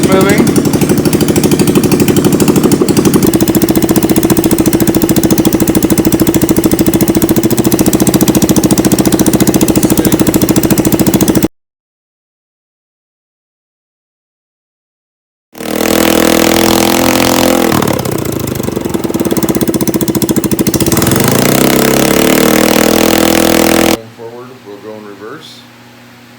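A YS200 Yard Sport CVT engine runs loud and steady while the choke is adjusted, a rough continuous drone that drops out for a few seconds, then restarts with a dip in pitch before fading.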